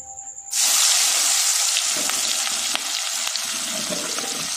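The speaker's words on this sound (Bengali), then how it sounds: "পেঁয়াজটা ভাজা ভাজা হয়ে গেছে" Onions hit hot oil in a pan with seasoning spices, bursting into a loud, steady sizzle that continues close and bright, softening slightly partway through.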